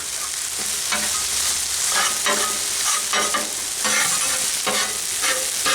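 Ground beef frying on a Blackstone griddle, steady loud sizzle with repeated scraping and chopping strokes of a spatula against the flat-top, no talking.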